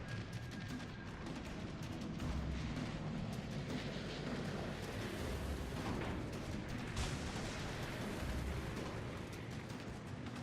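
Anti-aircraft fire in the World of Warships carrier rework rattles in a dense, continuous barrage of rapid bursts and booms as a squadron of aircraft is torn apart, loud and unbroken, with no voices.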